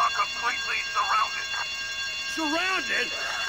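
A bank alarm rings with a steady, high electronic tone during a heist in the video game GTA Vice City, running continuously beneath characters talking.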